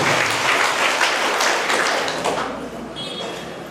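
An audience claps loudly for a birthday greeting at a public gathering, a dense, continuous burst of applause that slowly fades toward the end.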